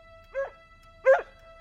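A cartoon dog gives two short, yappy barks with a third starting at the end, clear and close over near silence.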